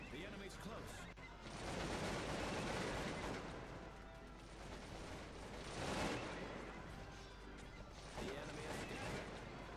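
Musket and rifle volleys in the Cossacks 2 battle game, rolling bursts of gunfire with crashing swells through the middle and end, under a voice speaking.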